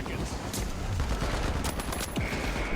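Rapid automatic turret fire in the online shooter The Finals during a tournament match, a dense continuous rattle of gunshots with other weapon fire and game effects layered throughout.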